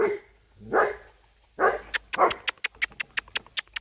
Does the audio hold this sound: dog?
yes